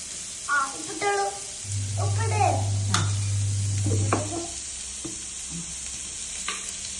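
Carrot fried rice sizzling and being stirred in a pan, steady frying hiss with scraping stir strokes, while people talk nearby.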